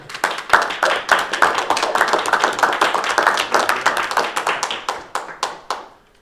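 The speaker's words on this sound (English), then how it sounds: "I think you deserve a round of applause." A small audience at a school board meeting claps, a close, brisk patter of many hands that holds steady, then thins to a few scattered claps and stops.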